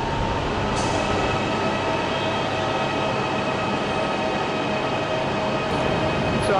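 Steady rumbling of a passenger train in motion on a rail journey from Manchester to Budapest, a continuous even roar with faint rattling and no pauses throughout.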